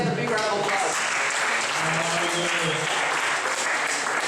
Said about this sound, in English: Can we please get a big round of applause?